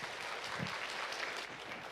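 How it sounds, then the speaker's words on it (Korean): An audience at a parents' training lecture claps steadily for the lecturer, a dense even wash of applause lasting about two seconds with no voices over it. "열정적으로 강의해 주신 강사님께 다시 한번 박수 부탁드리겠습니다"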